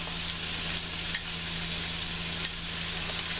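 Garlic, ginger and curry leaves frying in hot oil for a vegetable korma, a steady dense sizzle with faint stirring scrapes, close and continuous with no talk.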